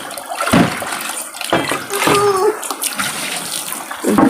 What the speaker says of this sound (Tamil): குழந்த சாணி தெளிக்குது பார்